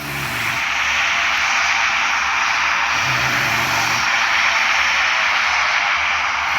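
An airplane landing at Tokyo airport gives off a loud, steady engine roar with a high hiss, heard close throughout with slight surges in the low rumble.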